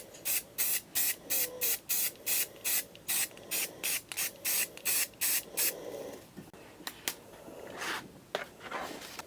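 Rust-Oleum metallic gold spray paint hisses from an aerosol can in a quick run of about fifteen short, evenly spaced bursts. Several longer, uneven sprays follow, close and clear with no talking.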